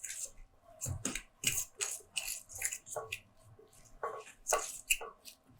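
Water is gradually worked into flour by hand to make a runny nokedli dough for Hungarian cauliflower soup, giving soft, wet squishing and slapping sounds in an uneven rhythm, close and quiet.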